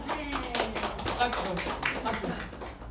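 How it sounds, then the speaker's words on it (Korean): Congregation clapping during a Sunday church service, a scattered, uneven patter of hands with a voice speaking over it. "박수."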